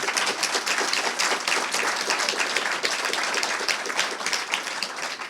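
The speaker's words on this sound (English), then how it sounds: "if you have a round of applause for our two speakers" Listeners at a talk on vision and heart health applaud two speakers, a sustained, fairly soft wash of many hands clapping at a steady pace.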